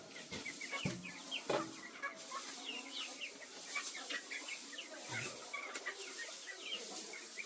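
Several chickens cluck and chatter in quick, overlapping bursts, fairly close, with a few soft knocks in the background.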